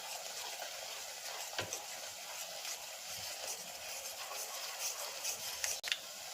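Garlic frying in oil in a pan for garlicky puffed rice, a steady soft sizzle and crackle with a few faint ticks and scrapes, close and continuous, no talk.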